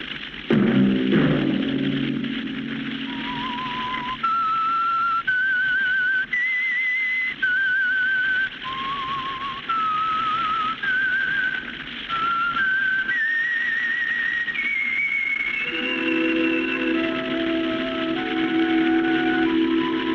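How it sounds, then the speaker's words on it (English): A clear whistled melody of sustained, sliding notes rising step by step, alone over a faint steady hum, ending in a brighter held phrase. "Let that whistle be your signal"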